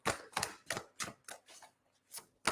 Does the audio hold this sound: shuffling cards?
yes